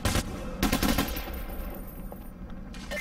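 Gunfire during a Payday The Heist robbery, loud bursts of shots in the first second followed by a lower continuous din of combat noise.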